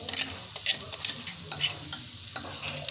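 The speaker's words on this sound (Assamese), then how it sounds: "এইদৰে ভালকৈ লৰাই থাকিব।" Boiled, mashed dangbodi is stirred in a frying pan with garam masala, a spatula scraping in quick, uneven strokes over a soft, steady sizzle, close and fairly quiet.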